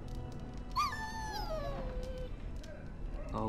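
A dog in the video game Dragon Age: Origins gives a few high, sliding whimpers over low background game ambience, moderately close and fairly faint, with a brief voice-like sound near the end.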